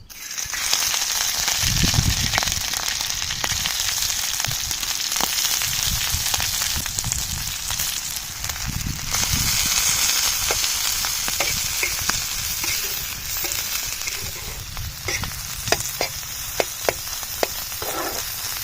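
Chicken hearts frying in hot oil on an iron pan for a street-style dish, a dense, steady sizzle throughout with stirring scrapes and metallic clinks growing more frequent toward the end.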